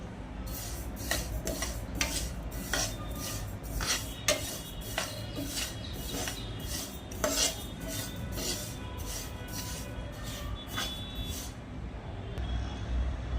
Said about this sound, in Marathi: हळूहळू याला चटचट आवाज येत आहे